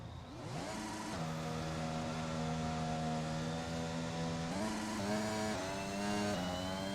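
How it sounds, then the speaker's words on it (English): Turbo hybrid engine of a Formula 1 car in the racing game F1 2021, a steady revving drone with rising pitch shifts as it accelerates and changes gear, loud and continuous with no voices. "Isn't that turbo power engine that we hear?"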